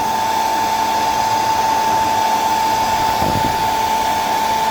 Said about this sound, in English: First, get yourself any blow dryer